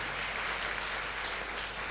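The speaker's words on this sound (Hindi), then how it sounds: "ताली बजा के परमेश्वर को धन्यवाद दे।" A church congregation at a Sunday prayer service claps together to thank God, producing a dense, steady wash of applause that fills the room throughout.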